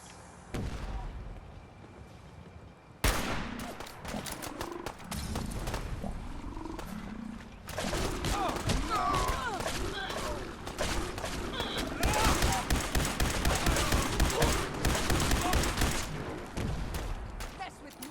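Gunfire while fighting Gulpers in Fallout 4, with dense rapid shots and creature roars filling the scene, loud and sustained after a brief quieter opening.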